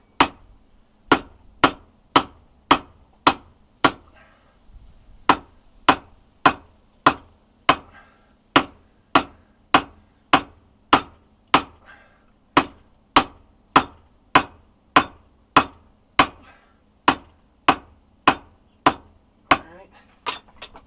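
A hammer strikes hot steel at a coal forge while drawing out a taper for a hay hook, about twenty sharp, ringing blows in an even rhythm, each loud and close, with a short pause after the first few.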